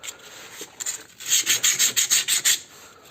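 An oily drum brake shoe is scrubbed clean by hand, with a few scattered scrapes followed by a rapid rhythmic series of about eight close, raspy rubbing strokes.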